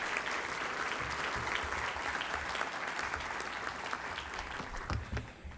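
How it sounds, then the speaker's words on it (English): An audience applauds steadily at a Rooster Booster event sponsored by Brescia University: dense, continuous clapping for the full stretch, fairly close and even in loudness, with no voices over it. "Give them all a big round of applause for all their hard work."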